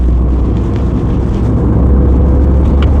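A Mk3 Vauxhall Cavalier accelerating hard to overtake a Fiesta, heard from inside as a loud, steady low engine drone with road roar, continuous and close throughout.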